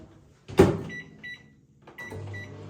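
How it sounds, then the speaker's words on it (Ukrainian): A microwave door thuds shut, a few electronic beeps sound, and then the oven's low running hum starts as it poaches an egg for one minute. "ставимо мікрохвильовку на одну хвилину"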